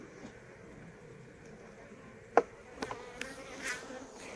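Honeybees at an open beehive, a faint continuous buzz with brief closer passes near the microphone and a few sharp knocks toward the end, no speech.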